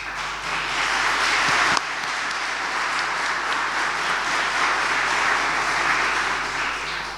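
An audience at a book launch gives a sustained round of applause, dense even clapping that fills the room steadily from start to finish.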